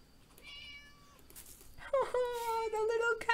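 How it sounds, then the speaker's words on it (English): A cat meows in the video game Sophia the Traveler, a faint high mew early on followed by a louder, drawn-out plaintive meow in the second half, heard close and clear. "Oh, the little cat noises."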